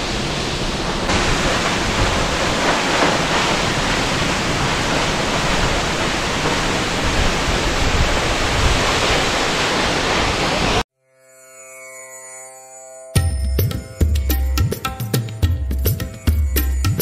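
A roaring waterfall of fast-falling water on the Ganga produces a loud, dense, continuous rush for about eleven seconds, then cuts to a brief hum before louder mixed sounds take over.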